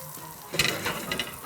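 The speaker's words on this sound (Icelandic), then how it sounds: "Þetta þarf að steikjast örlítið betur." Fish frying skin-side down in a pan, with a steady sizzle that swells into louder crackling bursts as the fillet is stirred or moved, close up and with no talking.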